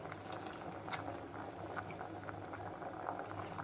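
Milk sweetened with jaggery simmers in a pot for a sweet potato and sago payasam, giving a steady, close bubbling and soft popping that runs throughout without pause, with no voices.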